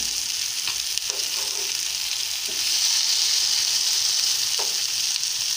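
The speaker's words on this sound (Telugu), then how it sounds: "నేను చేప ముక్కల్ని ఎలా తిప్పుతాను" Fish pieces frying in a pan give a loud, steady sizzle, with a few soft clicks and scrapes as the pieces are flipped, and no talking.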